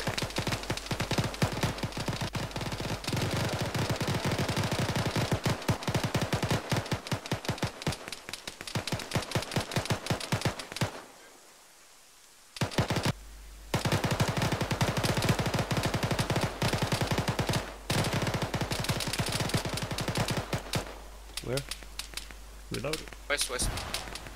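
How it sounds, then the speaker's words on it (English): Sustained automatic gunfire in the military shooter game Arma 3 during a combat search-and-rescue operation, dense rapid bursts that pause briefly midway before resuming, loud and continuous. "Shots fired, shots fired from the right."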